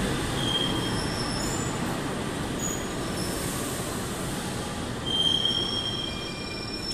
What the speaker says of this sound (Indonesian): Ternyata lokomotifnya menggunakan loko CC206 ya